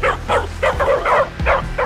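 Dogs barking in a Roblox Brookhaven animation, a quick run of about eight loud, close yapping barks in an uneven rhythm.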